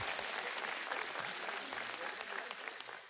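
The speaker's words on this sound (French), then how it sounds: "Applaudissez-vous pour vous-même." Audience applause at a French-language church sermon, a dense steady patter of many hands clapping throughout, fairly even in level and slightly fading toward the end.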